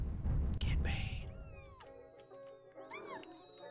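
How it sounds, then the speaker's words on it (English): Several cats in the game Quadrilateral Cowboy meow in overlapping, rising-and-falling calls after an opening burst of rustling noise. The meows come close and fairly loud, and a few drawn-out cries overlap toward the end. "Look at all these kitties."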